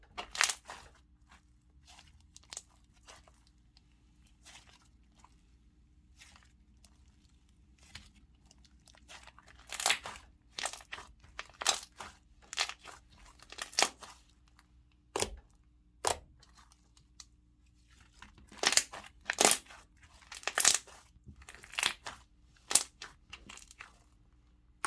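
Slime being stretched by hand gives off a run of sharp, close bubble pops and crackles, sparse at first, then coming in quick bursts, with no talking.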